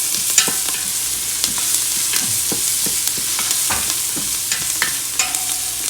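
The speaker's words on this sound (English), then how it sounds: "I'm going to add in my minced garlic. I'm going to allow that to go for a few seconds" Minced garlic frying in a pot for a Haitian salmon fish head bouyon, a close, steady crackling sizzle broken by quick spoon scrapes and knocks, with no voices.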